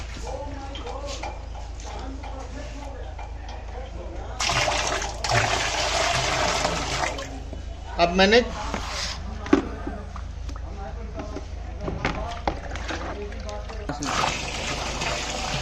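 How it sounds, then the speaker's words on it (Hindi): Water poured from a jug into a fully automatic autoclave, coming in rushing, splashing bursts over a low steady hum, while someone talks in Hindi. "टोटल 5 जग पानी डाले।"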